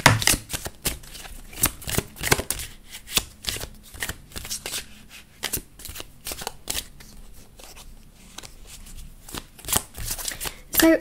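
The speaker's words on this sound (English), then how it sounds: "a lot of cards just flipped over." Tarot cards riffle-shuffled and flipped in quick, crisp bursts of papery slaps and flutters, close up and fairly quiet, with brief pauses between runs.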